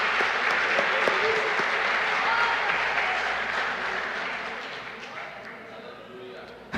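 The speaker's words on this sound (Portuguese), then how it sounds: "Se você não aplaude a esse Deus que nos dá vitórias impossíveis." A church congregation applauds during a sermon, dense sustained clapping that fills the room, with voices and cheers mixed into the crowd noise before it gradually thins and fades toward the end.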